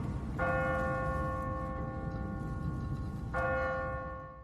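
Church bell ringing from a bell tower in the video game The Walking Dead: two resonant strikes about three seconds apart, each ringing on with a long sustained tone, heard from a moderate distance with no voices.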